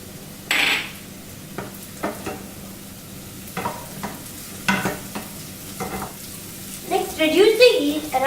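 Slit green chilies frying in a pan for tomato curry, with sharp sizzling bursts and stirring clatters spaced through the clip, building to a louder, busier crackle at the end; no voices.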